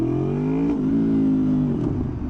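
A motorcycle engine is held near 4000 RPM in first gear, giving a loud, close, steady revving drone that dips slightly a couple of times.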